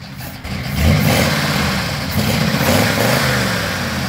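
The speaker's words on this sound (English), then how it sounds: "How's it sound? Rev it up." A Victress S1A car's engine revs steadily and loudly up close, a sustained throaty roar that swells after the first second and holds with slight rises and dips, with no talking over it.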